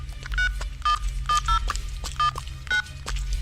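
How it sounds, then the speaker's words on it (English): Telephone keypad dialing with a string of separate DTMF tones, seven or so brief beeps at an uneven pace over a low background rumble, close and clear. "Gabby, thank God you answered the phone"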